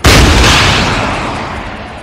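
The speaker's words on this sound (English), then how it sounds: "I just want to shoot a missile next to them." A missile launched in the military game ArmA 3 bursts out as a single loud, booming blast that rolls off into a long fading rumble.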